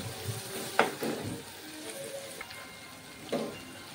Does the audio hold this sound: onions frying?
yes